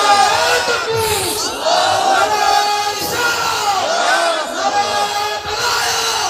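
A large crowd at a Ramadan religious sermon shouting Allahu Akbar in reply to a takbir call, several loud massed chants rising and falling in waves with overlapping voices.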